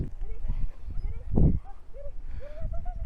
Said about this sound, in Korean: 강아지들이 좁은 집에 있다가 넓은 데 나오니까 아주 신이 나가지고 잘 뛰어다닙니다